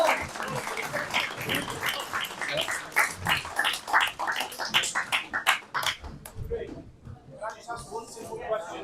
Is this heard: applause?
yes